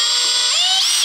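A cordless drill spinning a battery terminal nut on a Suzuki DR650 motorcycle, a close, loud continuous whine rising slightly in pitch, one short burst heard alone.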